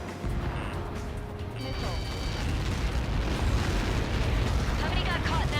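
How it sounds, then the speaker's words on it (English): A large explosion in the Ace Combat 7 video game roars as a dense, sustained blast rumble, with radio-style voices talking over it. "How many got caught in that explosion?"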